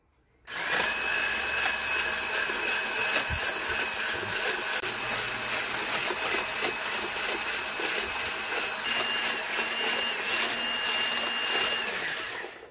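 An electric mixer whips cream with sugar, starting abruptly and holding a loud, steady high-pitched motor whine with a buzzing hum, then cutting off at the end, with no talking.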